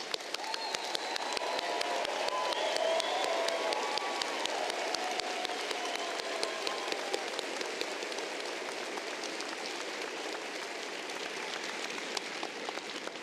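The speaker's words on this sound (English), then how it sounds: "Honors graduates, please rise so we can applaud your accomplishments." An audience at an Arkansas Tech University spring commencement ceremony applauds the honors graduates with steady, dense clapping from a large crowd in a big hall, sustained evenly for over ten seconds without talk.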